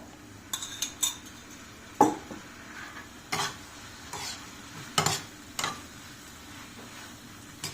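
Gobi manchurian stirred in a pan with a spoonful of oil, the spoon clinking against the metal in separate knocks every second or so over a faint, low sizzle.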